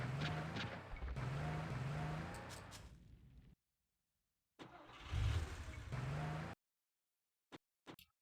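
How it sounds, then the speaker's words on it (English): Cobra cars, an unlockable unit in the strategy game Age of Empires II, roll along with a mid-pitched engine drone in two stretches separated by silence, ending in a few short clicks. "Let's collect these Cobra cars."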